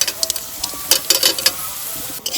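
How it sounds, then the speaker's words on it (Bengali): Raisins fry in a hot pan while deshi chicken biryani is being made, crackling with a close, bright sizzle broken by a run of sharp little pops. "ভেজে নেব কিসমিস"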